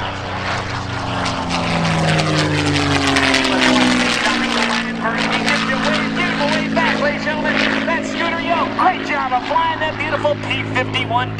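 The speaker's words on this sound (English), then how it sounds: "P51D Mustang. P51D Mustang Quicksilver." A P-51D Mustang named Quicksilver, a propeller fighter at an airshow, roars past with a loud, sustained engine drone that shifts in pitch as it passes, while an announcer talks over it.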